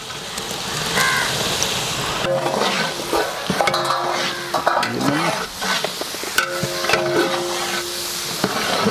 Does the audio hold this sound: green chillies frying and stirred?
yes